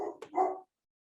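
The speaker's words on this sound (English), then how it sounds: "Please excuse my dog." A dog gives a couple of quick, fairly faint barks indoors, the second one longer, followed by silence.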